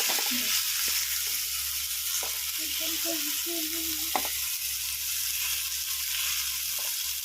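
Green chillies get stirred and mixed in a frying pan for lemon rice (chitranna), a steady close sizzle of frying with scattered scraping clinks of the spoon against the pan, with no voices.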